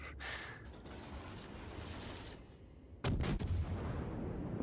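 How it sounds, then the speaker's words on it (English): Warship guns fire in a naval battle game: a muffled mechanical rumble builds, then a loud, sudden salvo of several close booms strikes at once, and the rumble goes on after it. "shooting my guns on the retreating path"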